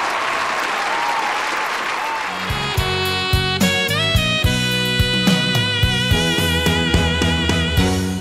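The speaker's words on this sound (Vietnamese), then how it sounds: "vỗ tay, hay quá" A TV singing show audience claps loudly and steadily, then music starts and carries on over the fading clapping.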